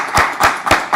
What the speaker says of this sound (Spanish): le demos un aplauso a Alberto